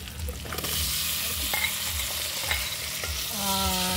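Chicken sautés in melted butter in a pan for tinolang manok, a steady sizzle with rhythmic stirring scrapes and occasional utensil clinks, no talking.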